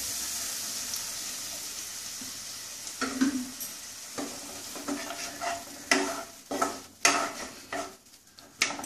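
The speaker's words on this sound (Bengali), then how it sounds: "এবার একটু জল দিয়ে দেবো।" Water going into a pan of cooking pointed gourd malai curry, a low sizzle followed by bursts of stirring and spoon scrapes against the pan that grow louder and more frequent, close up with no voices.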